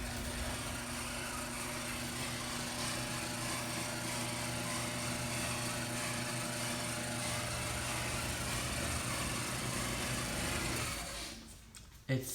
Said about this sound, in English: It still squeals even if I lubed the belt.